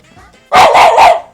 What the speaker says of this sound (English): We can't do it with him barking